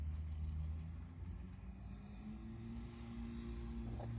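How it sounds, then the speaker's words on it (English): A loud car passes on a street with a low, steady engine rumble, faintly heard at a distance and holding through the few seconds without any voices. "This white car just parked right as this loud car is driving by me."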